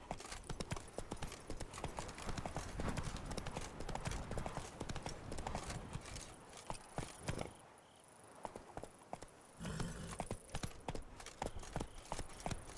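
Roach the horse from The Witcher 3 clip-clops at a steady, dense rhythm of hoofbeats, loud and close throughout, with a brief lull near the middle before the galloping resumes.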